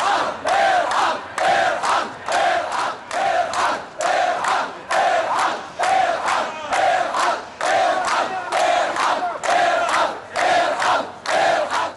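A large crowd chants a protest slogan demanding that the education minister step down, loud rhythmic shouted phrases repeating in regular bursts about once a second for the whole stretch.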